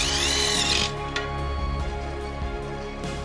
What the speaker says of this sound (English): screw in the brackets to the post